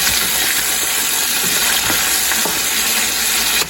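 Loud, steady sizzling of chicken frying in a pan, a dense crackling hiss with occasional pops, continuous throughout.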